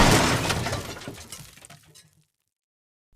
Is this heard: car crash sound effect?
yes